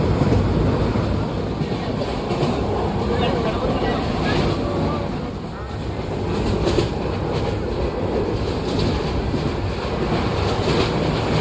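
A passenger train rolls along the rails in loud, continuous rumbling and clatter heard from close by, with a brief dip midway.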